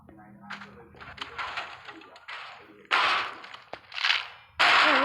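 A gun turret fires in the mobile sandbox game People Playground, producing loud bursts of rapid shots with crashing impacts. An excited voice talks and exclaims over the shots.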